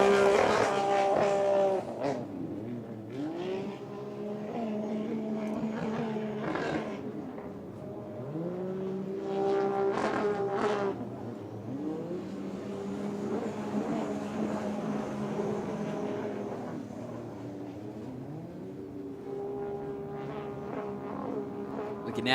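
A pro-class aquabike's engine screams at full throttle during a circuit world championship race, its whining pitch repeatedly rising and dropping as it revs loudly and continuously, with other craft droning nearby.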